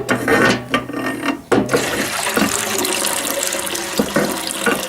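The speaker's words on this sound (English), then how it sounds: "This is pumping out of a drum on the bottom." An old hand-operated water pump in working order at a blacksmith shop draws water from a drum below, giving a loud, steady gushing splash with a few sharp knocks early on and no talk.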